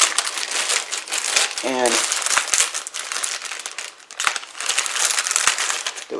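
Plastic packaging of a Spektrum DX6R radio transmitter being cut open, a short run of crinkling and crunching snips standing out near the middle, with someone speaking briefly over steady rustle.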